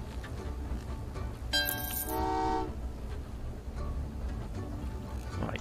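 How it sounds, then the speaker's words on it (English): A uranium train in Train Valley 2 rumbles along under a steady low hum, with a brief bright horn toot partway through and faint clicks of the game running in the background. "I'm going to park another uranium train down this way."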